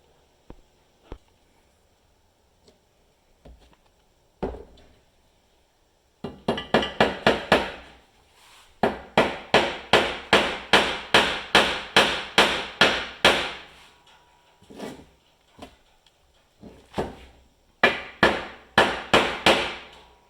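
Sharp, close hammer blows driving a part into a Polaris Triple Ultra 680 snowmobile engine, a few scattered taps and then long runs of rapid, evenly spaced strikes with short pauses between bursts.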